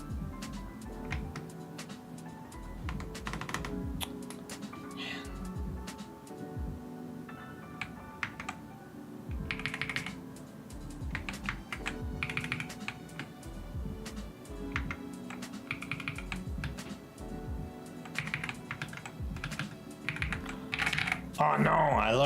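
Steady typing on a computer keyboard, clicks and clacks running in uneven bursts with brief pauses, close by, with someone occasionally talking over the keystrokes.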